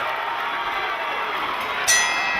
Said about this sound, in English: the crowd is going berserk